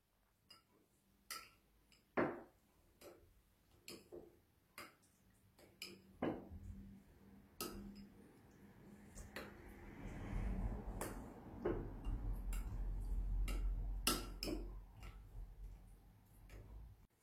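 Cream cheese and teriyaki sauce stirred together in a bowl. A spoon clicks and taps against the bowl in irregular strokes, followed by a longer wet, smearing scrape near the end.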